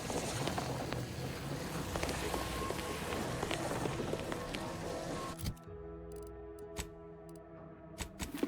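Steady hiss of rain falling in a game world from The Outer Worlds 2, broad and dense for about five seconds, then thinning into a quieter patter with sparse ticks and a few sharp drops.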